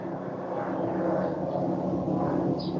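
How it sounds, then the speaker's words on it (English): A helicopter passes overhead during an online meeting, its steady broadband rotor rumble filling the background at a constant level throughout. "May dumaan na helicopter."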